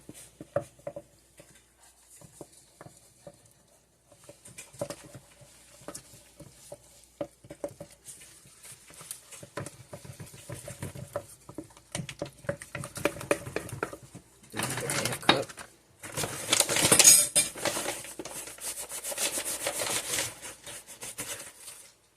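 Flour being stirred into donut dough in a bowl, with soft scraping and patting strokes, sparse at first, then growing busier and louder toward the end, no talking.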